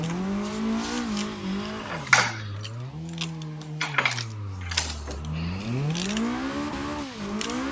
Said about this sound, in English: I'm trying to just modulate the throttle, so I'm not just sitting off the limiter in second gear all the time.